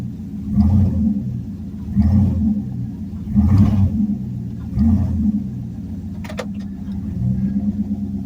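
A warm Chevy engine at operating temperature, on a test of 4L60E/700R4 transmission line pressure, has its throttle blipped four times in a row, each short rev rising out of a low idle rumble.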